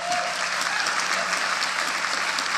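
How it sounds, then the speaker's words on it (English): An audience applauds a speaker at a political organizing talk, dense sustained clapping throughout, loud and close with no voices standing out. "She gets a lot of applause there."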